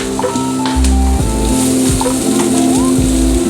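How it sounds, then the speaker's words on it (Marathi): Onion sizzles and fries in a little oil over a low flame for pasta, a steady dense crackle close up with stirring clatter. A low background hum and faint tones run underneath. "स्लो फ्लेमवरती आपण फ्राय करून खूप कमी तेल लागतं"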